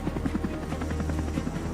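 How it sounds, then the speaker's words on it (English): A naval helicopter near an aircraft carrier gives a steady, close rotor thump with rapid rhythmic beating over a constant engine drone. "The group's helicopters go into action whenever technical staff, medical supplies, munitions, or provisions have to be exchanged between vessels."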